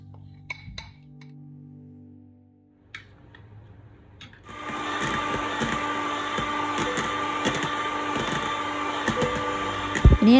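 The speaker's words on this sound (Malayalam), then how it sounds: "പിന്നെ അതിനുള്ള ക്രീം ചീസും ഒന്ന് ബീറ്റ് ചെയ്തൊന്ന് സ്മൂത്താക്കി എടുക്കുകയാണ്" An electric mixer beats cream cheese until smooth for a dessert, starting after a few quiet clinks and then running as a steady, loud whirring drone with rattling against the bowl.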